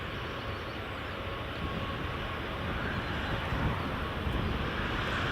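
An easyJet airliner arriving from Prague at Edinburgh Airport gives a steady, broad roar that slowly swells over a few seconds. It sounds distant to mid-range and is heard alone, with no talking.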